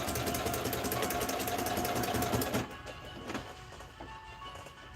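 Sewing machine stitching denim and flannel in a steady, fast mechanical whir, close and continuous, then easing to a slower, quieter run with light clicks.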